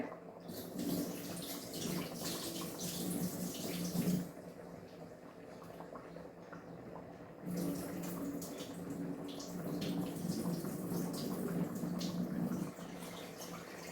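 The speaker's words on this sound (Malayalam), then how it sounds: "കുറച്ച് വെള്ളം ഊറ്റി കളയട്ടെ" Water running and splashing as it is drained off a pot of small deep-frozen prawns, a soft steady pour in two bursts with a quieter pause between, faint and alone.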